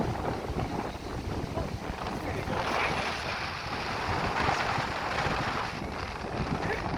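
Strong wind gusting across the sandy shore and boardwalk at Wasaga Beach, a continuous roaring buffet against the microphone with surf noise beneath, steady and loud throughout.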